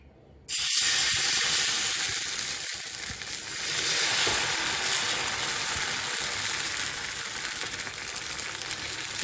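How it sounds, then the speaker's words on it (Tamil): Adai batter for bottle gourd adai poured onto a well-oiled dosa griddle, a sudden loud, steady sizzle that bursts in and holds as a bright hiss, close up with no talk. "இப்போ இந்த மாதிரி தோசைக்கல் வச்சு அதில் நல்லா எண்ணெய் தடவிட்டு இந்த மாவை அப்படியே ஊற்றலாம்"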